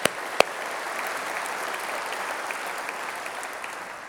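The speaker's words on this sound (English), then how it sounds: "Please applaud yourselves." A crowd applauds steadily, a dense wash of clapping that carries on evenly throughout, with a couple of sharper claps standing out at the start.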